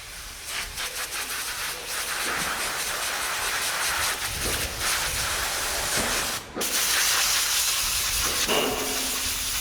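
Compressed air blasts dust out of the paper air filter of an Isuzu NQR 175 truck. A loud, steady, close hiss runs almost without a break, with one brief cut-out partway through.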